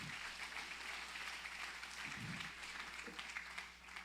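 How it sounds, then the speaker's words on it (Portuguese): A church congregation applauds God during a sermon: faint, sustained clapping from many people, a soft continuous patter heard at a distance. "Aplaude a Deus, aplaude."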